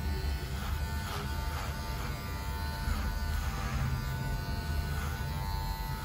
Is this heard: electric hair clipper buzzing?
yes